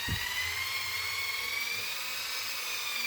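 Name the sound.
polishing bathroom tiles with WSR powder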